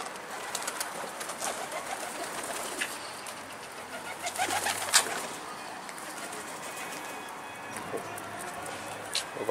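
Pigeons coo and flutter at close range, with soft cooing under scattered wing flaps and rustles, and a person talks quietly in the background.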